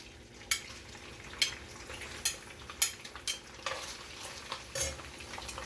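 Steady sizzle of smoked herring frying in hot oil, with occasional sharp pops and crackles scattered through, close and moderately loud, no voices.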